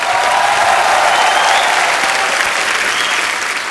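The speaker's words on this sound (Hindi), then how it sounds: "अक्षय बाजी के लिए जोरदार तालियां हो जाए एक बार।" Studio audience on The Kapil Sharma Show breaks into loud, dense applause, a sustained roar of many hands clapping together that eases slightly toward the end.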